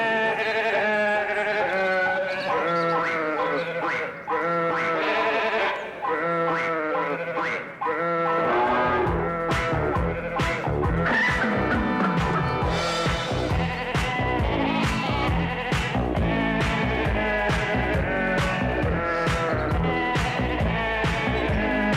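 A novelty song built from sheep bleats, with repeated bleating voices set as a melody over steady musical backing, loud and continuous throughout.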